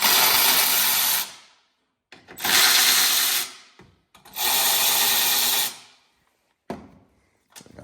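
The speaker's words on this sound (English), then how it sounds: "we'll start by taking out these 3 bolts here" Three long bursts of a cordless power tool spinning out 10 mm bolts from the air box of a 2022 Acura MDX, each run loud and close with short pauses between, followed by a brief final blip.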